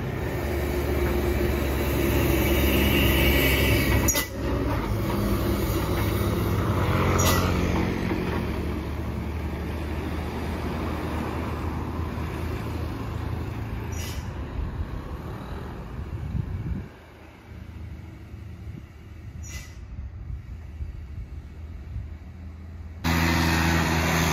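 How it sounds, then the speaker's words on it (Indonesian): Loaded dump trucks carrying toll-road construction material climb the Seulawah mountain road, heavy engines droning and rumbling as several pass close by one after another, with wind buffeting the microphone and brief quieter gaps between them. "Terlihat banyak dan truk yang lewat"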